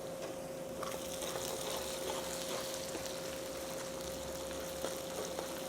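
Ginger garlic paste sautéing in a pan for a Chettinad chicken drumstick masala, a steady low sizzle and faint frying hiss running evenly throughout, with a constant hum beneath and no talking.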